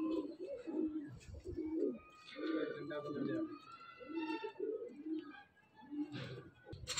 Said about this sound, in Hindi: ये एक अभी कबूतर आके बैठा है, मादी पट्टी है।